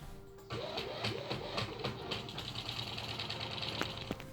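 A Thrustmaster TMX Pro racing wheel's force-feedback motor, set to simulate an engine failure, starts abruptly into a mechanical whirring buzz with rapid rattling pulses that continue steadily up close.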